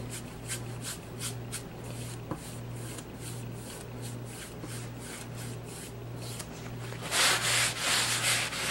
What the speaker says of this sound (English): Just putting a little bit of gray color back here.